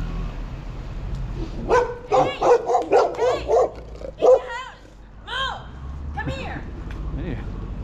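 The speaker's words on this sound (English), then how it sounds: "The German shepherds are always guard dogs." German shepherd guard dogs bark loudly in a rapid burst of several barks, then a few more scattered barks, heard nearby from the street during a walk.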